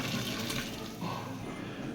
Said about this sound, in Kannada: hot water